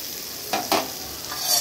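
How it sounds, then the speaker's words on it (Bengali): Potatoes and pumpkin fry with nigella seeds and green chilli in a pan, a soft background sizzle broken by two quick scraping stirs, with no talking. "কালো জিরে আর কাঁচা লঙ্কা দিয়ে আলু কুমড়ো ভাজা হচ্ছে"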